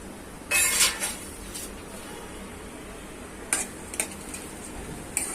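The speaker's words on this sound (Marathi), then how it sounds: "कांदा चांगला परतून द्यायचा" Onion sautéing in oil in a pan for a black chicken curry, with a steady low hiss under a few loud bursts of spoon scraping and stirring, close and clear.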